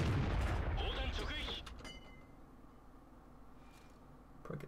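A tank cannon in World of Tanks fires a single booming shot into an IS-2 right at the start, a loud low blast that decays over about a second into quieter mechanical ambience.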